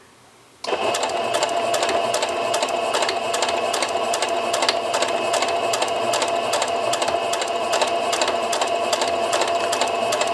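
Domestic sewing machine stitching a fabric seam with a quarter-inch presser foot, a steady rapid mechanical whir with fine repetitive ticking that starts abruptly after a short quiet moment and runs continuously, close and alone without talk.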